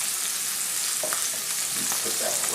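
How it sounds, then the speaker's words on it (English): Onions and garlic sauté in a pan with a steady, loud hissing sizzle throughout, broken by faint clinks and stirring sounds. "I'm going to go ahead and add in my garlic to my onions."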